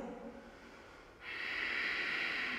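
Breathing held through a yoga pose with hands on the floor in a vinyasa flow session: a quiet stretch gives way to a strong, close airy breath that carries steadily to the end.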